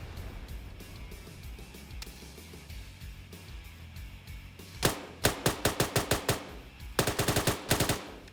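An L85 rifle with a scope fires in a video game, delivering two sharp bursts of rapid rattling shots after a stretch of quieter ambient noise, loud and close.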